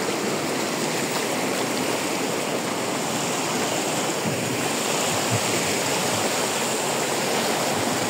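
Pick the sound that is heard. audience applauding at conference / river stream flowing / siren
river stream flowing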